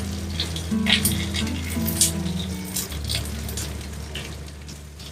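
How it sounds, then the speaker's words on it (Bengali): Chopped onions and garlic frying in a pan for a red lentil chorchori, giving a steady soft sizzle with light crackles and occasional clinks, fairly quiet and close. "তো পেঁয়াজটাকে হালকা নরম করে ভেজে নিতে হবে"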